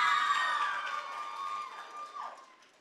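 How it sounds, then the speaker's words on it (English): Audience applause and cheering for the best female debater at a Mombasa region awards ceremony, a fairly faint, distant crowd roar that tapers off over a few seconds. "A round of applause to her."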